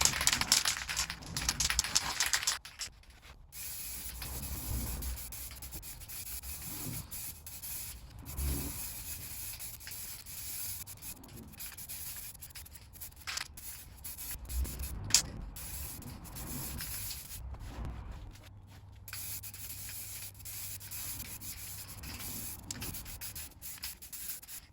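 A spray gun lays a second coat of base coat onto a car at home, long steady hissing bursts broken by short pauses, fairly faint and close, with no talking.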